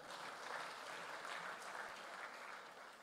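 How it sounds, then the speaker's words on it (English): A church congregation clapping during a service welcoming a reverend, a soft, distant and even patter of many hands sustained for about three seconds. "Clap for that."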